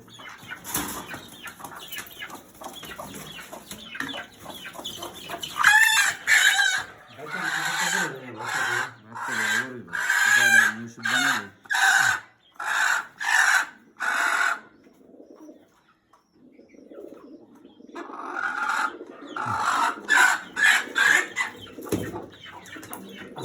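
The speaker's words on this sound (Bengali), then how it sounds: "মুরগিটা" Chickens cluck on a small agro and dairy farm where some birds are sick and on medication, in loud, close bursts with a quiet gap midway.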